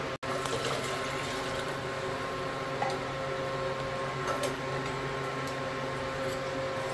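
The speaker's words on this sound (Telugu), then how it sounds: "ఇది దీంట్లో ఉన్నందుకు మనం నీళ్ళు ఏం చేయాలంటే 1కి 2 చొప్పున నీళ్ళు పోసుకుంటున్నామండి." Water pours into a pot for mutton biryani, a steady continuous rush over a constant low hum in a kitchen.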